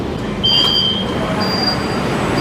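A Kolkata Yellow Line metro train stands at Jessore Road station, giving a steady, loud rumble with a thin high-pitched whine running through it and a brief brighter squeal near the start.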